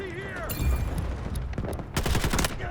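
Gunfire in the video game Delta Force Hawk Ops, a few scattered shots followed by a denser burst of rapid rifle fire near the end, with game effects in the background.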